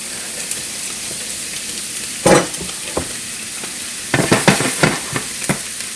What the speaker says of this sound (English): Now we will put the mushrooms and the onions.